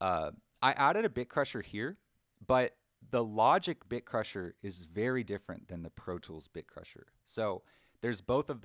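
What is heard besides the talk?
No distinct noise like a dog, phone or traffic.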